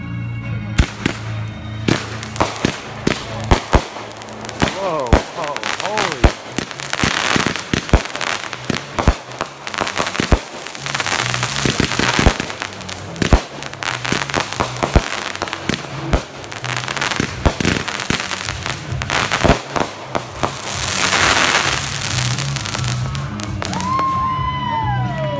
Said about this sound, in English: Exploded pieces of firework spectacular.